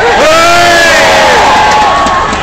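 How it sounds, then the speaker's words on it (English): A large crowd cheers for an Olympic torch relay torchbearer at Durham racecourse, a loud, sustained roar of shouts and whoops with rising and falling voices that holds steady throughout before easing slightly at the end. "Let's have a cheer for Jeff"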